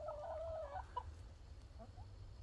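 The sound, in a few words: chickens clucking in their new shack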